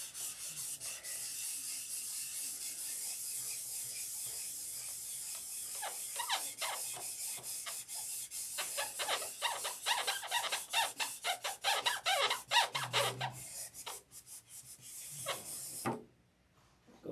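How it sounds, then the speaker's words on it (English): Sustained hand rubbing and sanding on the open bays of a model plane, a steady abrasive rasp that grows busier with rapid strokes toward the end before stopping abruptly. "This is the part that takes the longest, is rubbing these open bays."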